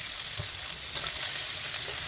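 Snake gourd frying in a hot wok with potatoes and cumin tempering, giving a steady close sizzle throughout with faint stirring scrapes and no voices.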